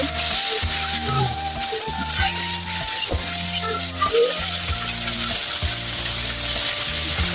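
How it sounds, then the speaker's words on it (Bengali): Pointed gourd (potol) frying in oil in a wok, a steady loud sizzle running throughout with occasional stirring scrapes, no voices. "পটল ভেজে নিব।"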